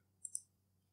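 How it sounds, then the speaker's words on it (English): A computer mouse gives a quick double click while working in SolidWorks, two tiny sharp clicks close to the mic over a faint low hum. "Click here, OK."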